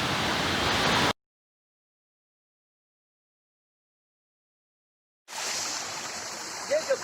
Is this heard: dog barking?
no